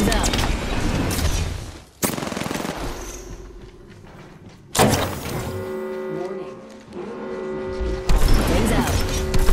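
Bursts of automatic gunfire from a battle royale video game, with sharp broadband onsets and sustained firing stretches, heard under player voice chat.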